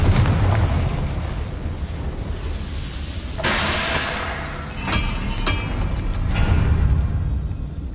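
The Confringo blasting spell going off in Hogwarts Legacy, with sharp explosive bursts and hissing blasts over a constant low rumble of game ambience.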